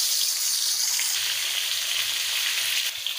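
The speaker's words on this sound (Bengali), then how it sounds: "মাছগুলোকে ভেজে নেব।" Fish fries in hot oil in a wok, a dense, loud, close-up sizzle that crackles steadily and without a break.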